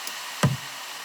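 A single original kick drum sample triggered in Logic Pro X Quick Sampler delivers one short, punchy low thump with a quick decay against near silence.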